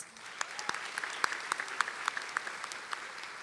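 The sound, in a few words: applause for stage guests at a graduation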